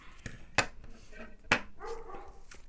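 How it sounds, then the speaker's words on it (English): A dog barks somewhere off in the distance during craft work indoors, with a few sharp, separate barks amid faint background sounds and some voice-like murmuring. "And goes the dog again."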